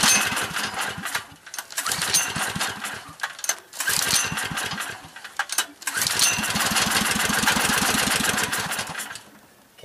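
A small generator engine burns wood stove smoke gas and fires up unevenly. Rapid close putt-putt bursts surge and drop out several times, then hold steadier near the end.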